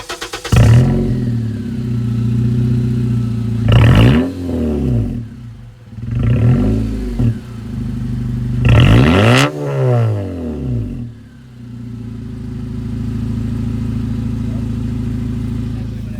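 A girlfriend's Honda car with its exhaust cut off starts and revs in several sharp, loud bursts, each rising and falling, then settles into a steady raw idle; no one speaks.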